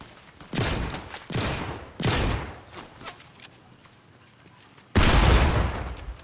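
Gunfire in Fortnite: a few sharp, loud bursts spaced a second or so apart, followed by a quieter stretch with faint steps before another heavy blast.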